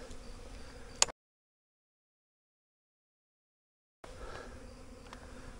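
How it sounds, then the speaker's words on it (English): A low bee buzz hums steadily for a second on an overgrown trail at Santiago Oaks, ending with a sharp click, then breaks off into total silence before the buzzing returns near the end. "I just realized there's bees freaking everywhere."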